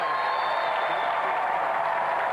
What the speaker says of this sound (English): Round of applause for Tony Duray.